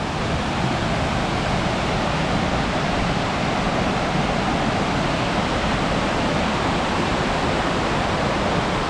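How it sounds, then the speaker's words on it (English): Water tumbling down the rocks at Multnomah Falls makes a loud, dense, unbroken roar that stays even from start to finish, with no voices. "in English, there's water coming down the rocks"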